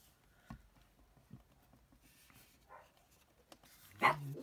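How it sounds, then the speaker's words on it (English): A single sharp dog bark bursts out near the end, loud and close, after a stretch of quiet, faint background noise and scattered small knocks. "I've never heard that dog bark like that."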